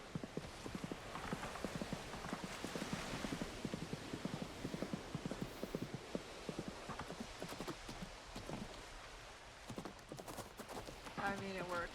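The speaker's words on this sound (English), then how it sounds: "I got a purple horsey. You can get around really fast now." Horse hooves clip-clop steadily in the video game Coral Island while a purple horse is ridden, a fast even patter running throughout under a woman's chatter.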